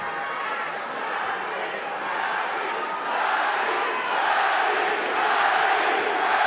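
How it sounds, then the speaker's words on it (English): A big arena crowd at a Manny Pacquiao versus David Diaz boxing match chants Manny in a dense, continuous roar that swells toward the end, with a commentator talking over it. "Crowd chanting, Manny, Manny,"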